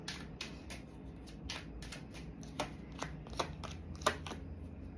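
Tarot cards are shuffled by hand in a run of soft, crisp riffling flicks and taps that come in an irregular rhythm, close up and quiet, with no talking.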